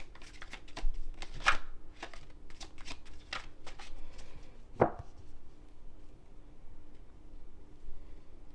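Tarot cards shuffled by hand, a loose series of dry taps and riffles with two sharper snaps, close up and unaccompanied by speech.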